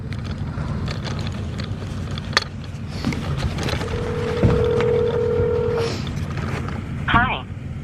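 A phone call placed to a cab company: a single steady ring tone sounds for about two seconds over a constant background rumble, followed by a short chirping burst.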